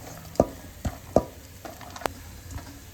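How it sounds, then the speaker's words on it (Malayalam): Five medium onions, thinly sliced, fry in a pan under a soft sizzle, while a spoon scrapes and stirs them in several sharp strokes spaced irregularly, with no talking. "1/2 മിനിറ്റ് ഇളക്കിയതിനു ശേഷം സവാള ആഡ് ചെയ്യാം."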